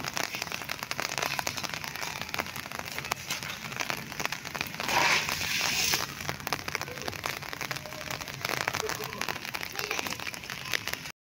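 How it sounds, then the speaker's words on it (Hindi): Heavy rain pours steadily on a surface with a light wind, a dense continuous hiss with a louder surge near the middle and no voices. "बारिश भी चल रही है बहुत तेज और हल्की हल्की हवा भी चल रही है"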